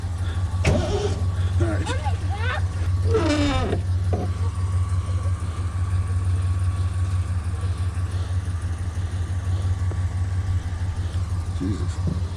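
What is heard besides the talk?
engine starting and idling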